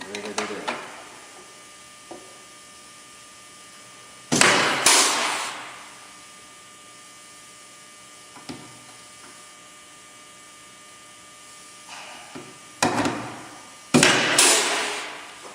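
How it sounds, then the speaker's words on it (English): A rivet tool fastens a Team Z strutless wing on a 1979-93 car, giving a few sharp snapping pops spaced seconds apart against a quiet room, each with a short clattering tail. "And rivet it in."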